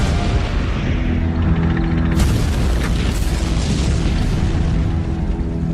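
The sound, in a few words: explosion of a Sherman tank destroyed by a Panzer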